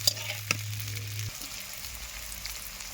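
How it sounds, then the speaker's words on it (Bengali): Capsicum sizzles and crackles as it fries in a blackened iron wok, a steady close frying hiss with a low hum under the first second and a stir-like clatter near the start. "এবার ক্যাপসিকামটা ভেজে নেব"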